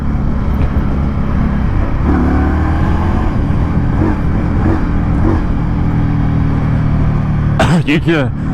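An Indian Scout motorcycle engine rumbles steadily while riding in traffic, with gear shifts along the way, under a rider's voice.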